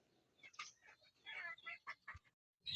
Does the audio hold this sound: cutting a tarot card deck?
no